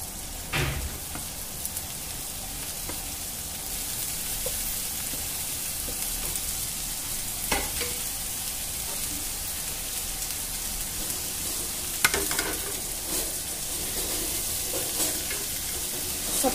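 Chopped onions fry in a pan with a steady, continuous sizzle while a spoon stirs them, giving occasional scraping clicks and brief louder knocks; close and fairly loud, with no talking.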